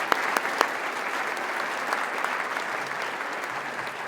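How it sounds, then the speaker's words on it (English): An audience at an awards breakfast applauds, a steady burst of clapping from a room full of people lasting several seconds with a few sharper claps at the start. "would you give them a round of applause too"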